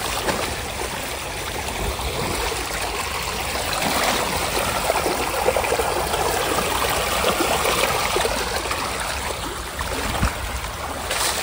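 River water flows steadily during a crossing on foot in a rural area, a continuous close rushing and trickling wash that stays even throughout, with no talk over it.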